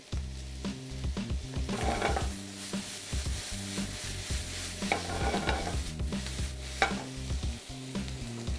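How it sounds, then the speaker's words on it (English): Food is tossed in a hot pan with parsley, giving a soft sizzle under repeated rhythmic scraping and clattering of the pan, fairly quiet, with a low tonal hum beneath and no speech. "Just toss the pan. You want it to get heated all the way through."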